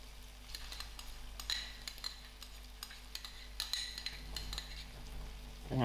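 Spoon stirring spicy rice and mixed vegetables in a pan over low heat, with light scraping and soft clinks against the pan over a faint background hum.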